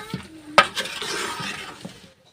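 Tomatoes drop into a hot pan for a village-style egg curry, giving a short sizzle and stir with a sharp clatter of utensil on metal, near and brief.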